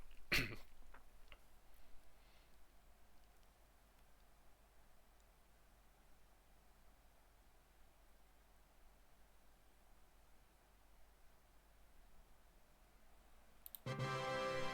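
A single sharp sneeze from a character in the video game DragonFable bursts out at the start, followed by a long stretch of quiet hiss and a sudden loud noisy burst near the end.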